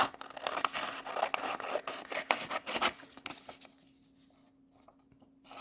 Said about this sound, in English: I'm going to take a minute just to cut this out.